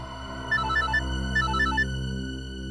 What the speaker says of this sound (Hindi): सर, रिंग तो जा रही है।